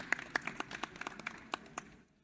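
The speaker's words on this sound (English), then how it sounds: "Let's give that hand of applause." A brief round of scattered applause from a small group at a conference session, about a dozen distinct claps that quickly fade to silence.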